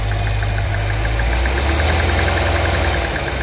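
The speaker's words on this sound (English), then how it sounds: "Nothing like a little bit of a knock in the engine here" A new Cadillac Escalade V, just started, idles with a steady low engine rumble and a rapid, evenly spaced ticking knock running throughout, loud and close with no talk.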